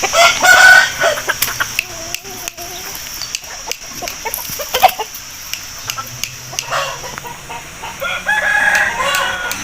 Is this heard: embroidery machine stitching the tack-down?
no